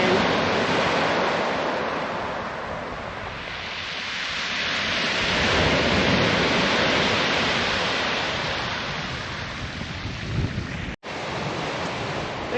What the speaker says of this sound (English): I love the sound of the water going through the pebbles and then whooshing in.